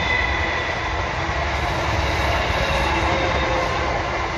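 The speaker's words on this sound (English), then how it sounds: "There hasn't been any trains for hours, and then we start filming and they all come." A train passes near a spot used for spring plant foraging in the UK, a steady, loud rolling rumble with rail noise, continuous throughout with no talk.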